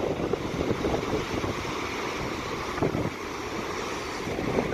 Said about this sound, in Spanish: Estamos en otro punto donde también se notan las olas